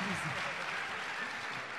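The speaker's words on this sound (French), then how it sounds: "on applaudit Henri Cévé, s'il vous plaît" Supporters applaud Henri Cévé at a football fan event, a faint, even wash of clapping heard from a distance with voices mixed in.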